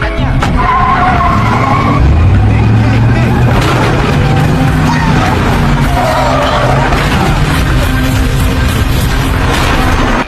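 A car in a film scene speeds away as the driver floors the gas pedal, with a rising engine roar and skidding tires, loud and close over busy background sound and dramatic music.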